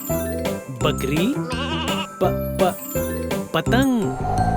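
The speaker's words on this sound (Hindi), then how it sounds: "बकरी।" A goat bleats amid a children's counting rhyme, its wavering cry rising and falling near the end over a steady, bouncy musical backing.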